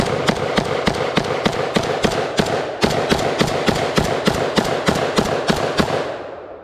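A Beretta AR70/90 semi-auto rifle firing brass ammunition from a used surplus magazine at a range, a rapid evenly spaced string of about eighteen loud sharp shots with a brief pause midway, ending in a fading echo.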